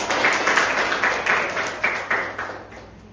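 Students applaud in a Grade 7 Islamic school classroom during a micro-teaching lesson, a brief burst of scattered group clapping that thins out and fades within a few seconds.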